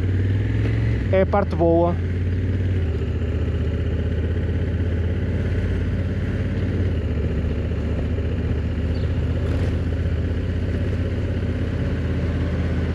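A 2024 Honda Africa Twin Adventure Sports motorcycle engine idles steadily while warming up, a continuous low rumble running throughout, with someone speaking briefly near the start.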